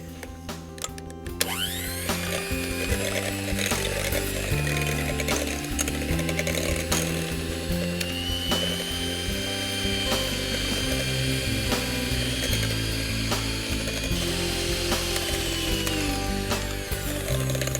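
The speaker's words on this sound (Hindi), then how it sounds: "फिर इसमें हम यूज करेंगे एक एग बीटर, जिसे अच्छे से मिक्स करने के लिए" An egg beater mixing cookie batter for monster cookies gives off a steady, loud mechanical whir. It runs without pause from start to finish, with a faint rattle of the beaters against the bowl.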